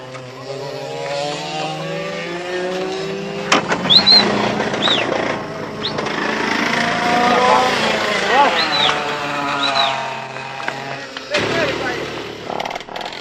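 A racing go-kart engine driven on track by Ayrton Senna, a high revving whine rising and falling as it passes, with someone talking over much of it.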